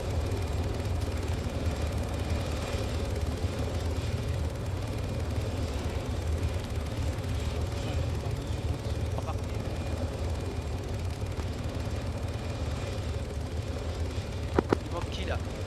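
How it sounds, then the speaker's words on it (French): A steady, loud helicopter rotor drone fills the scene throughout in the video game ArmA 3, with voices talking in French over it and a couple of brief clanks near the end. "Tout le monde est embarqué dans l'hélico."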